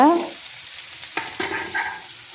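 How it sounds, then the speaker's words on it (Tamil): Potato curry with curry leaves stirred and fried in a pan, a steady close sizzle with spoon scrapes and clinks running through, loud and without voices. "அதோட கறிவேப்பிலை சேர்த்துக்கிறணும். நல்லா மிக்ஸ் பண்ணி விடுங்க."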